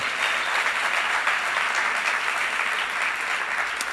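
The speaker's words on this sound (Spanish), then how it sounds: "Denle un aplauso al basquetbolista de nuevo" A church congregation gives sustained applause for a basketball player, many hands clapping in a dense, even roar that holds at a steady level throughout, with no voices cutting through.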